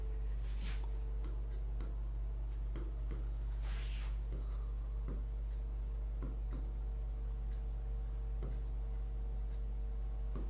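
A teacher writing on a board during an English lesson, with a series of short scratchy strokes and taps spaced irregularly over a loud steady hum, close and alone without talk.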